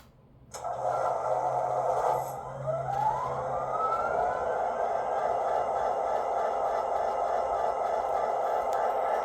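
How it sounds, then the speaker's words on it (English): A steady mechanical drone that starts abruptly, with a rising whine settling into a constant idling hum: the diesel prime mover sound of an Atlas HO scale Metrolink MP36 model locomotive. "let me go ahead and fire up the prime mover"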